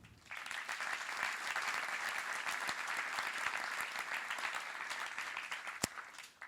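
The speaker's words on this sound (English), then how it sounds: "I think we should give ourselves a round of applause." Conference attendees at a closing session clap together in a sustained, fairly distant round of applause that builds quickly and holds steady for several seconds.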